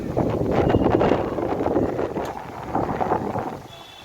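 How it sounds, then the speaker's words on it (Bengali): Strong outdoor wind buffets the microphone in loud, rumbling gusts that swell and fade, easing toward the end. "এত হাওয়া দিচ্ছে যেন মনে হচ্ছে ঝড়।"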